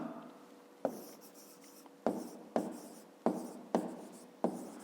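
Pen or chalk writing by hand during a fifth-grade math lesson, in six sharp strokes at a steady pace, each sharp tap trailing into a scratch, close and clear with no talk over it.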